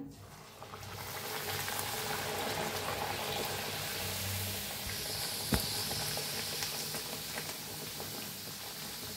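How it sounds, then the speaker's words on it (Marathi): Semolina puris deep-frying in very hot oil: a continuous soft sizzling hiss with fine bubbling crackle, close and steady, with one sharp clink partway through. "आता फिरवून तळूया दोन्ही साईडनी छान असं"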